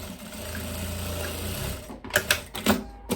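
Sewing machine stitching a seam in a viscose dress, a steady mechanical hum and whir for about a second and a half, then stopping, followed by a few close handling knocks and rustles.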